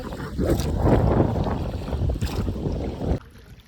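Gusty wind buffets and roars across the open air over a river, rushing in waves for a few seconds before cutting off abruptly near the end.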